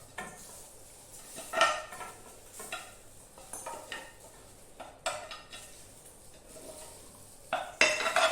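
Fried fish cooked with sauce is shifted into a dish, bringing a series of sharp metallic clinks and scrapes of pans and cutlery, close, spaced irregularly, over faint background hiss.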